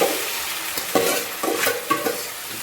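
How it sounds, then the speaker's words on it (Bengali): Momo keema fries in a little white oil in a hot wok, a continuous close sizzle broken by several scraping, clattering stirs of a spoon against the pan. "কড়াইতে অল্প একটু সাদা তেল ছিল, এখন আমি এগুলো সব দিয়ে দেবো।"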